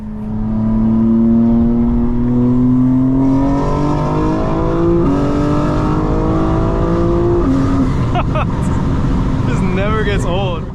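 A fully modified 2025 BMW M4 Competition xDrive with open exhaust valves rumbles loudly up close, its engine note rising in steps through several climbs in pitch, with brief crackles near the end.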